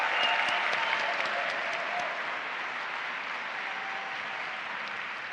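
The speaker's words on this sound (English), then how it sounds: "A big applause." A concert audience applauds the Erasmus Orchestra with dense, steady clapping that holds at an even level throughout, a full crowd sound with no voices standing out.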